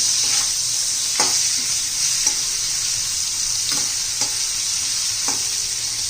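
Bitter gourd being stirred and mixed in a frying pan, a steady sizzle broken by several distinct scraping strokes of the spoon at irregular intervals, close and fairly loud with no talking.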